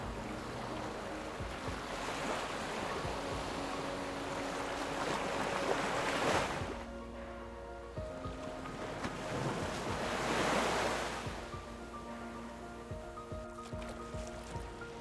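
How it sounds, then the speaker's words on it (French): Mediterranean waves break over rocks and pebbles on the Côte d'Azur shore at Nice. Two rushing surges swell and fall back into a hissing, windy wash, heard from close by with no talking. "Le tumulte des vagues qui fait ronronner l'océan sur les rochers."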